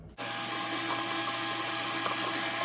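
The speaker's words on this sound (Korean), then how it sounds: "기름을 45ml를 넣고 믹서로 넣어주세요 섞어주세요" A kitchen blender whirs steadily, mixing vegetable or grapeseed oil into homemade mayonnaise; it starts abruptly and runs at a constant, close, loud drone with no talking.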